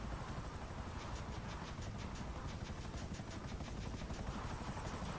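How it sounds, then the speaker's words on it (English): Helicopter flying in an older GTA video game, a loud continuous rotor and engine roar with a steady pulsing chop that stays constant and alone, with no talk. "Helicopter destroyed."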